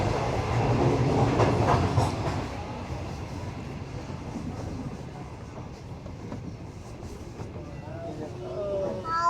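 The New Shalimar Express 28DN passenger train runs on its Lahore to Multan morning service. From on board comes a steady low rumble with rhythmic clickety-clack of the wheels, and someone talks over it.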